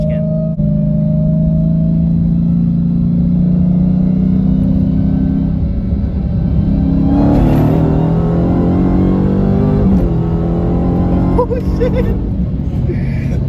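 A 2020 Dodge Charger Hellcat with Stainless Works catless mid pipes, stock exhaust and tune, revs loudly and close by, its deep rumble climbing and falling across several throttle blips while people talk over it.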